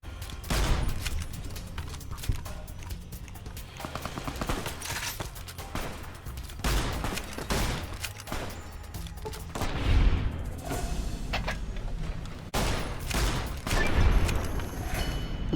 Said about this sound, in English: This cowboy repeater is my best weapon for long-range fighting.